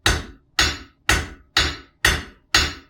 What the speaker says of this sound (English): occasionally I'll stop and hit the anvil